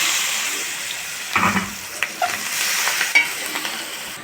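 Onions frying with turmeric, curry powder and spices in a pan, giving a close, bright sizzle with a few sharp spatula scrapes and stirs over about four seconds.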